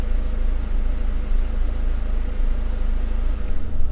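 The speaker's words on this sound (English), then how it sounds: "car's been idling for a few minutes." A Dodge SRT-4 idles steadily after a few minutes of warm-up, giving a loud, close, continuous low engine rumble with an even throb throughout and no voices.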